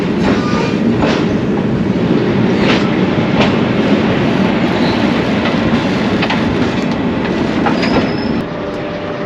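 A southbound train passes close by in Alice Springs, a loud sustained rumble with rhythmic wheel clacks and occasional squeals, fading slightly at the very end.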